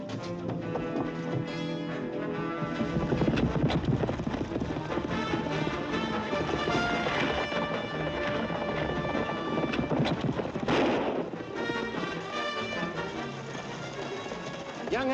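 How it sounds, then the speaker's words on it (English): Horse hooves clatter along under a swelling orchestral score in a Western action film, a busy rhythmic pounding of riders galloping off together. "Come on, you men, get on your horses and get after it."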